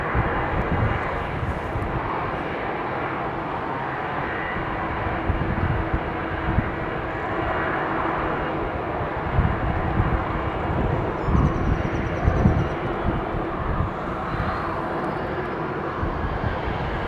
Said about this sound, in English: There's Trent 7000s on this Neo jet